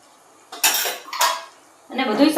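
A spoon stirring tomato gravy into a pan of onion, turmeric and spices, heard as two loud metallic clattering bursts against the pan, then a busier stretch of scraping and clinking after a short pause.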